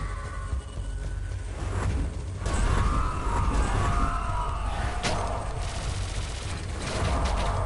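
Boss firing projectiles upward in the Hyper Light Drifter finale, a dense, continuous barrage of rapid synthetic gunfire bursts with mechanical whirring, sustained loud throughout with sharper hits near the middle.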